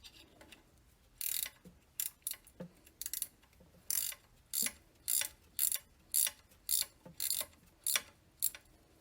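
A ratcheting combination wrench works on a Jeep Cherokee engine during a timing chain and harmonic balancer job. Its crisp pawl clicks come in a dozen or so short, regular bursts, fairly faint, with quiet gaps between strokes.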